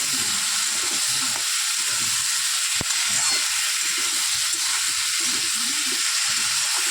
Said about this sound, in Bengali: এবার আমি টমেটো আর কাঁচা লঙ্কাটা দিয়ে দেবো দিয়ে আরেকটু নাড়াচাড়া দিয়ে আরেকটু কষিয়ে নেবো